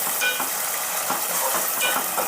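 Button mushrooms and a spice paste fry in oil in a pan on low flame, giving a steady bright sizzle with soft stirring scrapes, close and continuous with no voices.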